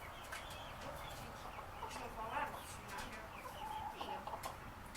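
Several buff Orpington chickens cluck and murmur softly at a moderate distance, with scattered overlapping calls against a quiet background.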